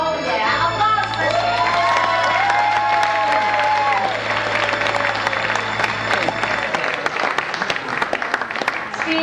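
Loud applause and cheering from a cabaret audience for a performer, with whoops and shouts, a sustained low musical drone under the first part, and clapping continuing throughout.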